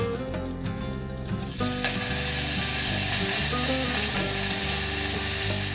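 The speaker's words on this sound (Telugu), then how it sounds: "So oil heat ఎక్కిపోయింది. సో కొంచెం దీంట్లో జీలకర్ర, ఆవాలు, అలాగే కొంచెం కరివేపాకు." Cumin, mustard seeds and curry leaves crackling in hot oil in a pan, a steady loud sizzle with rapid popping that grows fuller after the first second and continues without speech.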